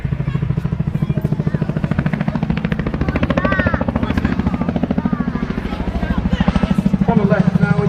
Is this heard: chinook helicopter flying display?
yes